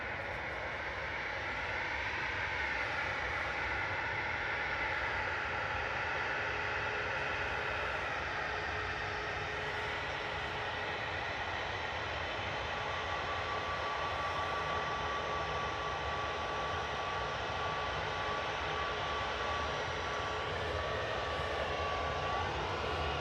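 A TUI Boeing 737-800 jet at Manchester Airport, bound for Innsbruck, gives a steady, continuous engine roar that holds loud and unbroken for the whole stretch, with no voices over it.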